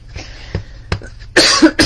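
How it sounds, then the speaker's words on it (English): A couple of rough coughs burst out close to the mic after a few soft clicks and breaths, the last ones loud and harsh. "And yes, I still have that annoying cough."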